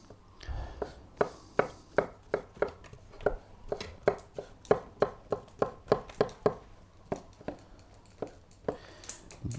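Porcini mushrooms being sliced for frying on a board, a steady series of crisp knife chops, close and fairly quick, with occasional pauses.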